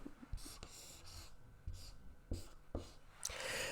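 A pen or marker scratches out a math formula on a writing surface in short bursts of strokes separated by taps and pauses, close and fairly quiet with no talk.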